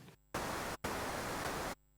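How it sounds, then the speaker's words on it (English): Broadband white noise from the noise source of an Analogue Solutions Impulse Command synthesizer, a steady loud hiss that cuts off briefly and resumes before stopping. "That's white noise."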